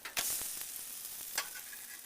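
Corn pancakes frying in a pan, with a steady sizzle and a few sharp scrapes and knocks of a spatula as they are flipped, close and alone.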